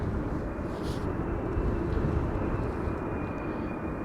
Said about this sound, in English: EasyJet coming in next, A320neo arriving from London Gatwick